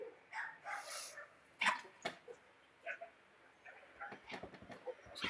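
A dog barks and whimpers somewhere nearby in a house, several short, scattered yelps that rise and fall, with a few clucking sounds mixed in.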